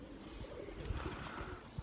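Pigeons at a backyard loft give soft, low cooing with a couple of brief bumps, close by and quiet against a breezy outdoor background.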